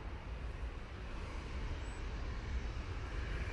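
An airliner roars steadily at Manchester Airport, a broad continuous rumble of engine noise that holds its level throughout with no voices.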